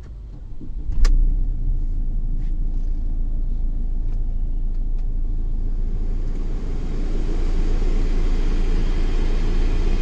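A Mercedes-Benz E-Class car engine turns over with a brief clunk and then settles into a steady low idle rumble that continues evenly.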